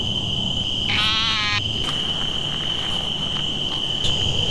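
An eastern narrowmouth toad in a swamp gives one loud buzzing bleat lasting under a second, over a steady high insect drone and a chorus of other night calls.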